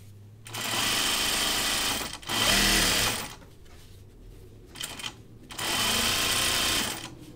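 A sewing machine stitches a pair of Ginger jeans in three sustained bursts of motor whir separated by short pauses with faint handling noises, close and fairly loud.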